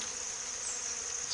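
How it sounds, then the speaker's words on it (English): Bees from a rogue hive in October buzz loudly and steadily at close range as they are pulled out of the hive, a dense continuous drone throughout. "pulling all these bees out"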